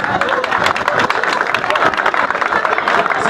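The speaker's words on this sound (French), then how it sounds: "j'aimerais que vous l'applaudissiez" Dense applause and clapping from an audience at a lycée ceremony, honouring the school's sponsor, steady and loud throughout with crowd murmur mixed in.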